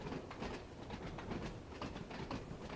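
Train wheels clatter over points in the Train Sim World video game, a rapid, irregular run of rhythmic clacks under a steady rolling rumble, moderately loud with no talk.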